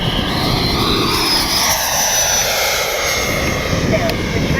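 A Freewing 80mm F-5 Tiger II RC jet's ducted-fan engine whines steadily at half throttle, loud and close, a continuous high rushing roar with a faint rising tone that holds through the whole stretch.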